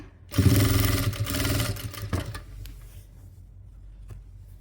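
A sewing machine stitches a homemade doormat made from leftover old clothes, its motor whirring loudly in a steady run for about two seconds before easing into a quieter hum with faint clicks.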